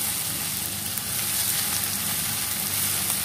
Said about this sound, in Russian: И пускай еще пару минуточек все вместе здесь вот так вот пожарится.